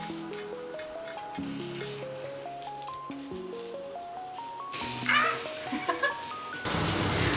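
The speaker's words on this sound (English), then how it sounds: "we're going to flip the tofu now" Tofu sizzling in a frying pan as it is flipped, a steady hissing fry under a backing melody, swelling with brief spattering bursts and ending in a louder wash of sizzle.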